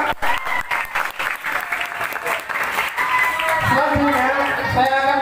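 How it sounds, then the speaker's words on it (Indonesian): An audience at a school student-council leadership seminar claps for the first speaker, a short burst of applause that rises near the end while a voice talks over part of it. "Tepuk tangan untuk pemateri pertama."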